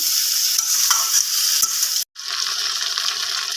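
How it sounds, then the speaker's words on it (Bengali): Mixed vegetables coated with turmeric and salt are stirred in a hot pan for shukto, a steady near sizzle with light scraping, broken by a brief silent gap midway before the frying resumes. "হলুদ দিয়ে সমস্ত সবজিগুলোকে ভালোভাবে মিক্স করে নেওয়া হচ্ছে"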